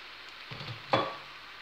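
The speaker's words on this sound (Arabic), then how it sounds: "عندي هنايا الحوت راه تشحر" Fish frying in oil gives a soft, faint sizzle, with a brief louder crackle burst about midway before settling back down.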